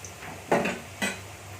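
Rice is fried with spices in a home kitchen pan, with a couple of sharp scraping clatters of a spatula against the pan over a faint low background, close and brief.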